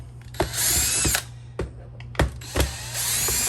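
A cordless drill fitted with a T15 bit adapter whirs in several short bursts, backing screws out of a Shark Ion robot vacuum's wheel; close, with brief pauses and clicks between runs, no talking.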